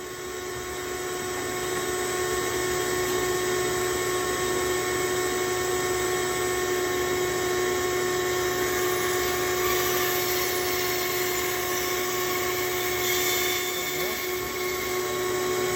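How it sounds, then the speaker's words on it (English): Bandsaw cutting off the heel of a guitar neck, a steady loud whine with a constant machine hum that runs without a break, alone with no talk. "So let me move over to the bandsaw and cut that off."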